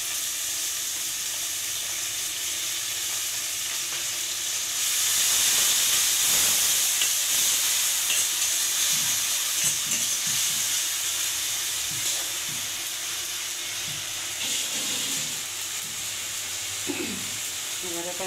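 Onion already lightly browned sizzles in a pan as ginger paste and a generous amount of garlic paste go in, a steady broad hiss and crackle rising louder midway, with scattered stirring clinks and a voice talking over it.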